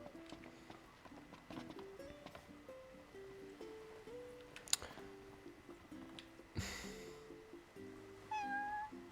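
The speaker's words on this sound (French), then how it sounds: "il y a un chat là, regardez." A cat meows in the video game Final Fantasy XV, several short tonal calls spread across the clip over quiet game music and soft footstep-like clops, with no talking.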